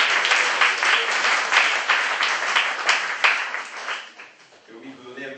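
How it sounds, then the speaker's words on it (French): An audience at a card trick magic show claps together in a brisk, close burst of rhythmic applause that thins and dies out near the end. "Ah, ok, on va applaudir Martine."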